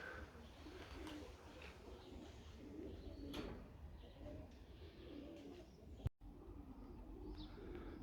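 Pigeons cooing softly inside a loft, a steady low murmur of calls with faint chirps and a brief click partway through.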